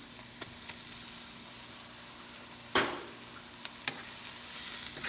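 Tomatoes go into a pan of shrimp sizzling with garlic and butter, bringing a faint steady fry with a sudden burst of crackle as they land, then a couple of light utensil taps.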